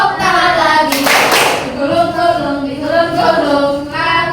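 A group of people in a classroom clapping hands along with a song, loud rhythmic claps mixed in with voices singing together, with one louder burst of clapping near the start.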